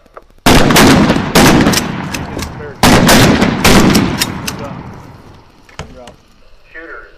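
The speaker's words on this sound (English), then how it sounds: "Go ahead and place your weapons from safe to fire and engage your targets." Rapid bursts of shotgun and rifle fire on a shooting range, several loud sustained volleys near the microphone with short gaps, trailing into scattered shots and a faint voice at the end.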